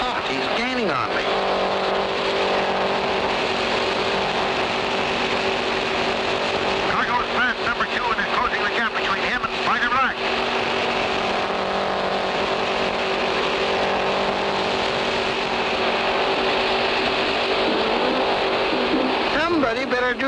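Engine of a motorboat roaring steadily at high revs, with pitch swells as it surges ahead, while a voice talks over it.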